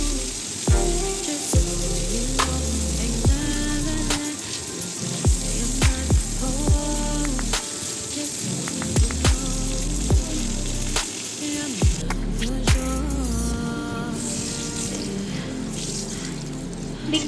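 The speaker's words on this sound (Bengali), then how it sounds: "এরপর বাকি মাছগুলিকেও আমরা একে একে ভেজে নেব" Koi fish fry in hot oil in a pan for a cauliflower and potato fish curry, giving a loud, continuous sizzle broken by repeated sharp crackles and spits.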